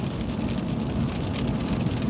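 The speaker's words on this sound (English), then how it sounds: "We're getting rain and sleet and stuff now." Steady rain mixed with sleet falls outside, a soft continuous hiss of drops on surfaces at moderate distance with no voices.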